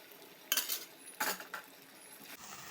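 Chicken pasta being stirred in a pan after a splash of pasta water, a few close clinks and scrapes of a spoon against metal with a soft wet sizzle between them.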